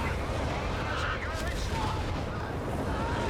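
A Nebelwerfer rocket artillery barrage in a Company of Heroes 3 match, a dense continuous roar of launches and impacts with broadband rumble holding steady throughout, while a commentator's voice runs over it.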